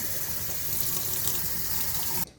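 Tap water runs steadily over a cauliflower being washed in a kitchen sink, a close continuous splashing stream that stops abruptly near the end.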